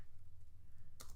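A search term is typed on a computer keyboard, producing faint, steady rapid key clicks under a low hum, ending in a slightly louder tap.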